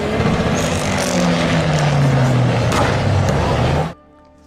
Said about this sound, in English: here's a clip on the MazdaSpeed 6